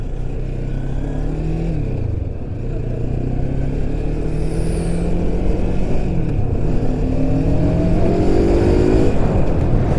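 A Voge 350AC motorcycle's 322cc parallel twin engine revs steadily and loudly while riding, its pitch climbing through the gears, with wind noise beneath.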